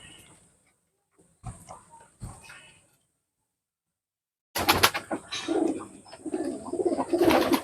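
Loft pigeons cooing and shuffling, a few faint brief calls at first, then a louder, denser stretch of coos and fluttery rustle close by after a silent gap.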